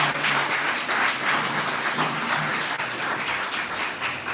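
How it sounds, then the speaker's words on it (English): An audience at a real estate panel gives the speakers a round of applause, a steady, moderately loud patter of many hands clapping at once, with no voices over it. "can we get another round of applause for all the speakers?"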